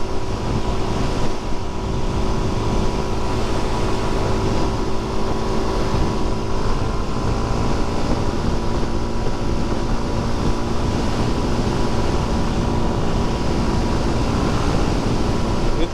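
A 2022 Suzuki DRZ400SM motorcycle cruises at about 75 mph at high RPM, a steady loud engine drone blended with heavy wind roar that stays unbroken throughout, with no talking.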